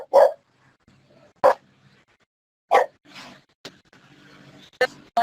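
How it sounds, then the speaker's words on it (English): A dog barks in short, loud single barks spaced about a second or more apart indoors, with faint background sounds between them and no talking. "I'm going to move the dog."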